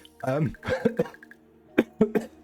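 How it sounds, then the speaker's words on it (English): A cough during a Turnbound ranked match, brief and close, with a few sharp bursts after a stretch of someone talking. "Oh, sorry for the cough."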